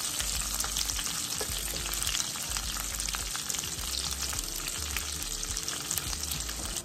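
Onions and squash frying in a pan with browned bacon, giving a dense, continuous close sizzle with a crackly hiss and occasional stirring; no talking.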